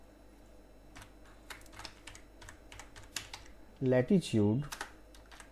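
Fast clicking keystrokes on a computer keyboard while code is typed, steady close tapping with someone speaking briefly over it near the end.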